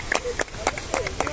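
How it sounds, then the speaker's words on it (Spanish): Scattered hand claps from a small group applauding a Guardia Civil mountain rescue in the Pyrenees, a few sharp claps spaced irregularly over soft outdoor background, with a voice speaking over them. "Mira, mira cómo aplauden."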